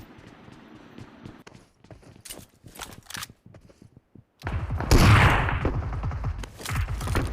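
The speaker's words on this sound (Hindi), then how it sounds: "तो यहाँ पे मुझे फुट स्टेप की आवाज़ आती है" Footsteps in a PUBG match at Pochinki, a run of quick, light steps followed by louder, denser running and rushing movement up close, no talking.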